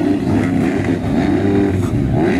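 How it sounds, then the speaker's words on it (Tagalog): Motocross motorcycles rev loudly at the start line of a Motor Ace Motocross 2024 expert race, a dense, steady engine drone with slight pitch wobbles that carries throughout. "this is Motor Ace Motocross 2024 series"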